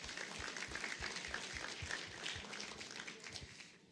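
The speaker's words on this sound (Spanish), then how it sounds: "vamos a darle un fuerte aplauso a las personas que van al gimnasio" A church congregation gives applause during a sermon: dense, fairly faint clapping from many hands, spread out and distant, holding steady for several seconds with a little background voice.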